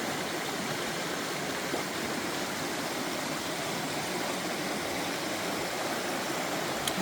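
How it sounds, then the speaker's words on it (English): Steady, soft babbling of creek water runs continuously through a forest on the Sweet Creek Falls trail, an even, gentle rush with no voices. "Water everywhere, and it's definitely babbling."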